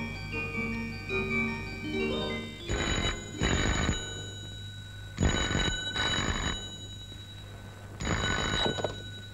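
An old-style telephone bell rings in bursts, three clear double rings separated by pauses, loud and close, with no talk over it, in a Telugu film scene.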